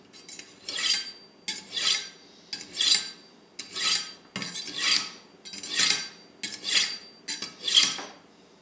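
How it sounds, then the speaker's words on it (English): A kitchen knife drawn repeatedly through a knife sharpener to hone the blade, about eight even, rasping metallic strokes in steady rhythm, close and clear with no talking. "at this point, you want to hone the knife"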